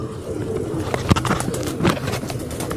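Female pigeon cooing softly a couple of times at close range in a pigeon club loft, against steady background noise.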